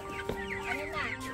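Chickens on a Filipino backyard farm clucking softly in a continuous chatter of overlapping calls, fairly close, with no other sounds standing out.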